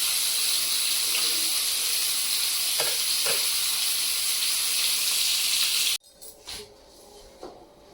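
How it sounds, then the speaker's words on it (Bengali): Pieces of a large rohu fish fry in hot oil with a steady, close sizzling hiss for about six seconds, which then cuts off and leaves a few faint kitchen clinks. "মাছ ভাজা হয়ে গেছে"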